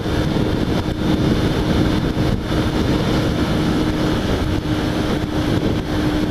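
A Kawasaki Ninja 250 motorcycle cruises on the highway, its engine drone buried under a steady, loud roar of wind buffeting the helmet microphone, with no breaks or talking.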